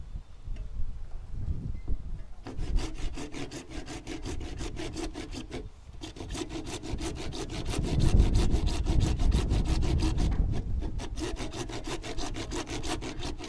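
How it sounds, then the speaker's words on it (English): Small-toothed hand saw cutting through PVC pipe, close and loud, with steady rapid back-and-forth rasping strokes that start after a brief quiet lead-in and continue with short pauses. "the reason it's great for the PVC pipe is because the teeth on the saw are pretty small"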